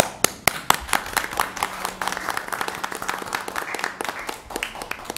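Applause breaking out at a school district board meeting in a room, a handful of people clapping with distinct individual hand claps forming an uneven, moderately loud patter.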